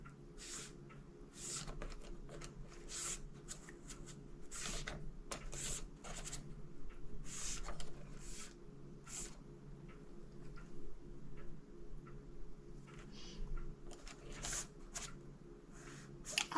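Coloured pencils rattle and clack against one another as a hand rummages through a pencil case, a long run of quiet, irregular clicks and rustles at close range.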